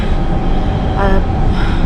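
Inside a train travelling to London: loud, steady rumble of the carriage with constant low-frequency roar and a brief tonal whine midway, no clear voices over it.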